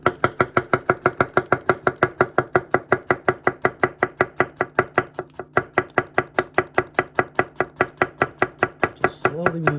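Steady, even chopping with a Tsunehisa 175mm bunka knife on a cutting board, roughly five crisp taps per second, close and clear, slowing into a few softer strokes near the end with no talk.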